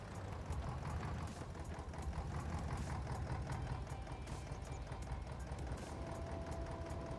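A tractor engine idles in Farming Simulator 22 with a continuous low, even chugging and rapid rhythmic ticks that carry on unchanged throughout.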